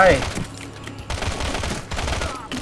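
Rapid gunfire bursts in the mobile shooter Modern Combat 3: Fallen Nation on Android, loud sustained volleys with game effects, broken by brief pauses.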